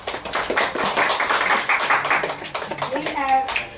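Audience applause at a Zoe's Law event, a steady mass of clapping hands filling the room, fairly loud, with voices mixed in toward the end.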